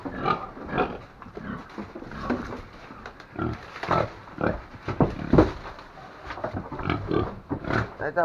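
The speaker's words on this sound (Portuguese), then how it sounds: "Aí eu vou mostrar melhor os porcos." Pigs on a Brazilian farm, including white crossbred fattening pigs kept near a wild boar, grunt and squeal in a dense, continuous run of close, loud grunts with sharper squeals throughout.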